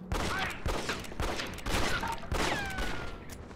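Enemy gunfire in the Red Dead Revolver video game on Xbox comes in repeated loud rapid bursts across the whole stretch, with brief gaps between volleys.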